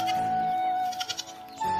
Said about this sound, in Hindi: तो बकरा आप सभी को देखना बाकी है, तो अभी इस बकरा को देखेंगे।